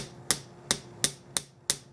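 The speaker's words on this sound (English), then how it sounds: "now I'm going to use the dent hammer to flatten that out" Dent hammer flattening a small metal ring cut from sheet with tin snips: five sharp, bright metallic strikes at a steady, slightly uneven pace, close and distinct, each ringing briefly before the next blow.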